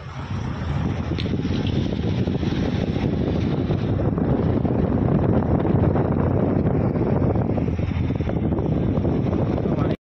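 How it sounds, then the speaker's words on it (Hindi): Steady, loud wind roars past the microphone on a mountain road at night along the Haridwar–Badrinath route near Govindghat, with rushing water mixed in; the broadband rumble runs continuously and close for about ten seconds, then cuts off abruptly. "हवा कैसे सरसर चल रही है।"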